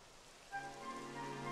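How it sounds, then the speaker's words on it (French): Rain falls steadily in the video game Dragon Quest XI, a faint soft patter that begins partway through and swells slightly with a light tonal layer, no voices. "Et comme par hasard, il se met à pleuvoir."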